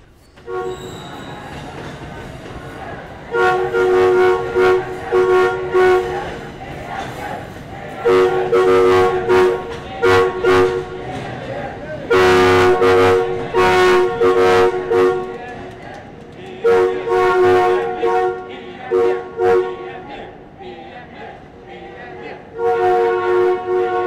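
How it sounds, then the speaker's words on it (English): A coal train rumbles past close by in Queensland while its horn blows in several long, loud blasts, with voices audible beneath the rolling noise. "a redirected coal train, due to Cross River Rail Works, briefly steals the show"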